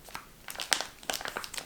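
A small, puffy packet printed with apples is handled up close, giving off a quick run of crisp crinkles and rustles at a moderate level, with no speech.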